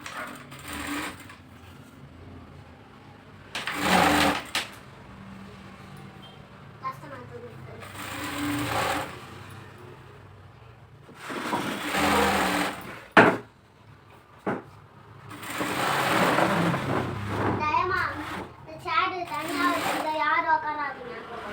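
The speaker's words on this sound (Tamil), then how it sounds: "இதுக்கு மேலே ஒரு படிமண தையல் போட்டுக்கோங்க" A sewing machine runs in several bursts of rapid loud whirring stitches while extra cloth is joined, with pauses between runs and a voice and other talk heard in the gaps.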